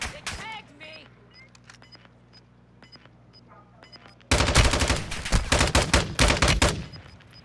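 Gunfire in Call of Duty: Modern Warfare II, a few scattered shots early, then a sudden loud burst of rapid automatic fire that rattles on for several seconds.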